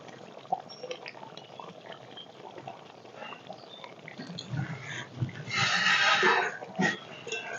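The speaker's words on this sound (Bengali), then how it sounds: "মাছের গ্রেভিটা বেশ ফুটে গেছে" Boal fish masala gravy bubbles in a pan, soft irregular blips and pops at low level, then a louder burst of sizzling and stirring before settling back into gentle simmering.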